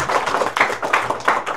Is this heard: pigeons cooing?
no